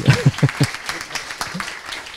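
A brief voice gives way to a thin, scattered patter of audience applause at an industry conference, with a few hands clapping unevenly for a short moment.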